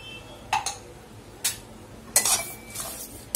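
Dried chillies, garlic and curry leaves dry-roast in a pan for sesame powder, with intermittent light clinks and scrapes of a spoon against the metal pan at irregular intervals, close and quiet, without speech.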